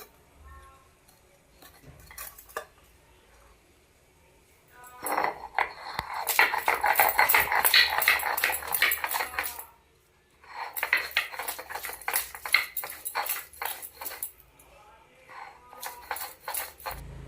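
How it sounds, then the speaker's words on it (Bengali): Ginger pieces crushed by hand for curry paste for a mutton curry, sounding as bursts of rapid clinking, knocking strikes, loud and close, with pauses between the runs and faint background noise. "আদা ছোট ছোট পিস করেছি থেতো করে নিচ্ছি আদাটা"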